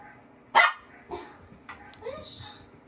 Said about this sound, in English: she would bark.